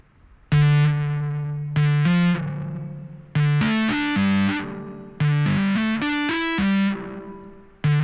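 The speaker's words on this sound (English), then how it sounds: "we'll put the reverb in front of the fuzz" A heavily fuzzed electric guitar, with reverb placed before the fuzz pedal, plays sustained distorted notes and chords, each swelling into a washed, reverberant tail.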